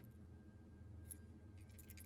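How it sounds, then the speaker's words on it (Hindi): Bike keys jangle faintly in a couple of brief metallic clinks near the end, under a steady low background hum. "बाइक की चाबी।"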